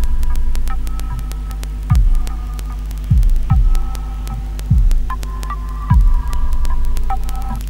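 Slowed-down, low-pitched playback from an After Effects preview running at the wrong frame rate: a heavy droning hum with repeated deep thumps and sliding tones recurring every second or so, steady and loud.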